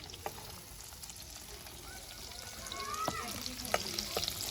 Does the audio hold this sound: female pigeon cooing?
no